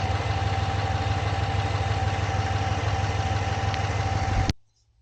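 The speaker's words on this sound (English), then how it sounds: "I don't know if you can see it, but the engine does have a shake to it." A GMC engine idles with a noticeable shake, a steady, loud, close drone with a persistent low throb and a faint whine, running evenly until it cuts off abruptly near the end.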